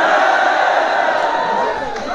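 A large audience in a university hall in Baltistan keeps up a steady, dense wash of chatter and murmuring. The blended voices stay fairly loud and even throughout, with no single speaker standing out.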